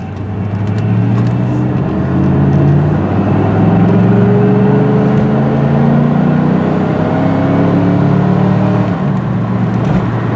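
A 1988 Mercedes-Benz 560 SL V8 roadster's engine drones steadily and climbs in pitch as it accelerates to 55 mph, with rising harmonics and a loud, continuous sound throughout.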